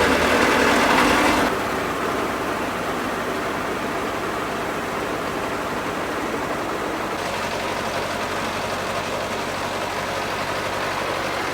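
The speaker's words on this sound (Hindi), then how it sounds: "सिर्फ मशीन की आवाज़ें होंगी" A farm threshing machine runs steadily with a low droning engine hum and broadband mechanical noise, louder for the first second and a half, then settling into a continuous even churn close by.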